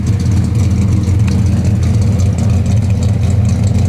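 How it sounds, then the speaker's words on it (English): A 1970 Dodge Dart Swinger engine idles steadily through dual exhaust with a deep, rumbling low-end tone, close by and continuous, with no voices. "Dual exhaust sounds great."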